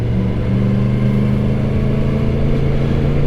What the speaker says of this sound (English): It does sound lovely, this bike.